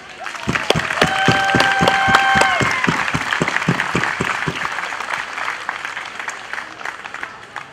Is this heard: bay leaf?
no